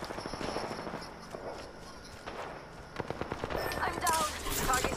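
Rapid gunfire from Apex Legends rings out in bursts of fast repeated shots, growing louder and denser toward the end, mixed with footsteps and other game effects while players talk over it.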